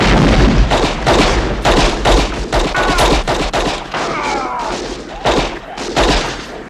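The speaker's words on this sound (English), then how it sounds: "Look at all these explosions." War-film battle scene from Platoon: dense bursts of gunfire and booming explosions crack rapidly and loudly one after another, with faint shouting mixed in.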